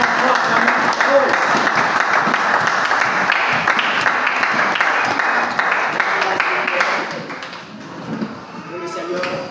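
A church congregation applauds loudly and continuously for about seven seconds, the clapping thinning and fading toward the end as a voice begins to speak.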